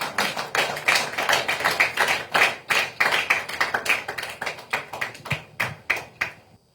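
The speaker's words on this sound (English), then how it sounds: "Please, can we give him the usual round of applause?" A crowd at a tribute ceremony gives a round of applause for a legal practitioner, steady close clapping that tapers off near the end, no voices.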